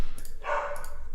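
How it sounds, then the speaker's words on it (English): A dog indoors gives one short bark that sounds a little way off, over a steady low background hum. "Apologies about the dog."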